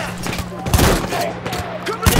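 Battlefield 1 gunfire crackles in quick bursts of rifle and machine-gun shots, loud and close amid the noise of battle, with voices talking over it.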